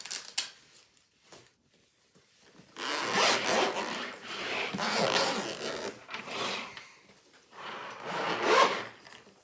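A zipper on a large violin case is drawn open in several long rasping pulls, close and fairly loud, with brief rustling pauses between strokes.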